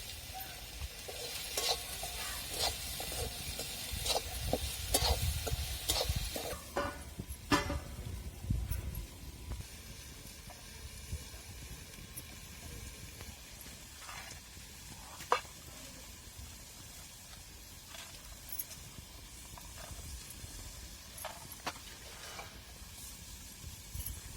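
Okra (bhindi) is sautéed in a pan, a soft continuous sizzle with scattered scraping stirs, fairly quiet against a faint background rumble.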